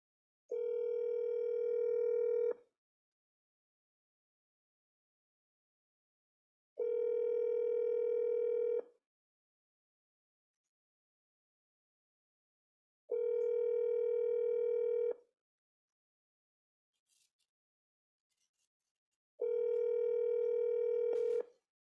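Telephone dial tone on a call: four steady identical tone bursts about two seconds each, separated by roughly four seconds of silence, clear and alone with no talking.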